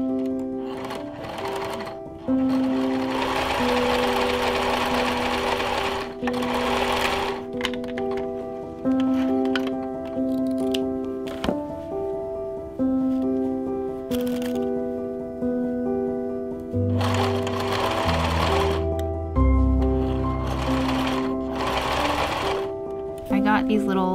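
A sewing machine stitches costume boot covers, its steady mechanical whirring running in close bursts over background music.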